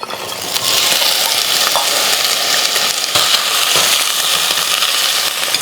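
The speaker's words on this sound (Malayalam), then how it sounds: "കുറച്ചുള്ളിയും ഒരു ചെറിയ രണ്ട് സബോളയും കൂടെ ഇത് ഒന്ന് വഴറ്റണം" Eggplant pieces sauté with shallots and onions in oil for sambar, giving a steady loud sizzle close up with a few scraping stirs of the spoon.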